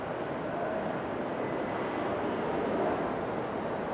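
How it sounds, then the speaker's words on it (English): A C-130 aircraft flying near an Okinawa airport, heard as a steady, broad roar that holds at an even level for about four seconds, with no voices present. "Yeah, it's a C-130"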